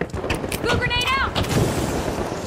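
A grenade blows up in The Finals, a booming blast among other gunfire and explosive bursts, loud and close, with a person's voice talking over the action.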